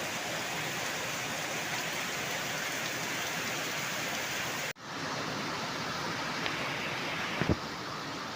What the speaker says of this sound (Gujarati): વરસાદ બંધ થતો નથી.